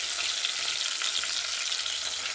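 Bitter gourd frying in oil in a pan over a low gas flame, a steady soft crackling sizzle throughout, with no talking.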